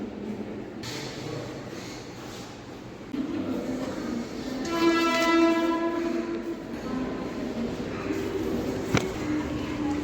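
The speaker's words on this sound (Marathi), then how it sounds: "ट्रेन इलेली आहे कल्याण" A train rumbles in steadily at Kalyan station, and a long, loud horn sounds midway, followed by a sharp clank and continued rolling noise.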